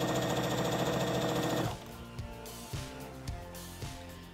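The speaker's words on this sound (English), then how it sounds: "we're just facing them right sides together and sewing both circles" Sewing machine stitching two fabric circles sewn right sides together for a flower pillow, running in a fast steady whir, then slowing into separate rhythmic stitch thumps as the fabric is turned.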